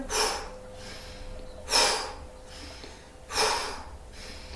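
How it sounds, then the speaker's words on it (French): Deep breaths during a yoga session for the neck: three strong, airy exhalations spaced a second or so apart, each swelling and fading, with quiet breathing and faint room tone between them, close to the listener. "J'inspire, j'expire, je relâche."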